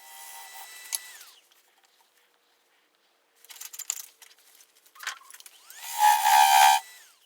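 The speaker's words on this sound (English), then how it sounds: "That's a 3/8 inch beading and parting tool, and that squealing is from that crack and from the vibration" Beading and parting tool squealing against a cracked butternut vase on a wood lathe, heard as intermittent high-pitched shrieks and scraping bursts separated by quiet gaps, with the loudest sustained squeal near the end.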